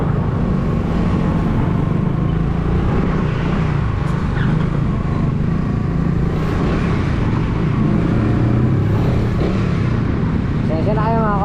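Road traffic in Batangas heard from inside a moving vehicle, a continuous loud low engine and road rumble with passing motors, while people talk throughout.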